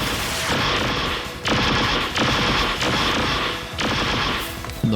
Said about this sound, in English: give you all a little test preview of what the weapon sounds like whenever you fire it